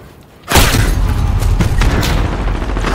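A sudden loud sniper rifle blast in the video game Call of Duty Modern Warfare breaks a near-silent moment, followed by a sustained booming roar of battle noise.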